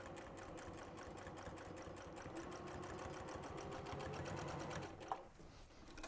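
A sewing machine stitches trim along the arm seam of a workshop apron, humming with a steady rapid mechanical chatter that runs close and continuous for about five seconds before slowing and stopping.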